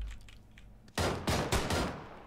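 Four loud, closely spaced SLR rifle shots ring out in PUBG, each a sharp, booming crack with a short echoing tail, following a quieter stretch of faint ambient sound.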